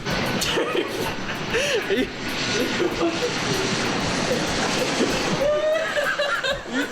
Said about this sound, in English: The plane flies right over the hotel.